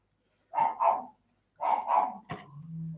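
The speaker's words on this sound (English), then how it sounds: "got a manic dog barking downstairs" A pug barks downstairs, muffled and fairly faint, in two pairs of quick barks followed by a single sharper yip, with no talking.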